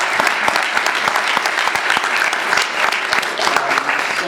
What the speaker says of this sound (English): I want to give one last round of applause for Shane.